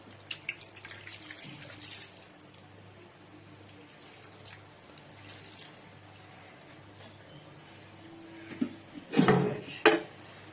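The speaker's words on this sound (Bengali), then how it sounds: "পানি দিয়ে দিই।" Water splashes into a cooking pot in a brief burst near the end, with a clank of metal, after a long stretch of quiet kitchen noise and no talking.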